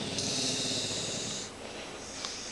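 A man sleeping on the couch snores in one long, rasping, nasal breath that rumbles close and steady, then tapers off into quieter breathing with a slight snort near the end.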